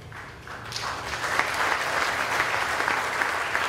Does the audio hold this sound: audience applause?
yes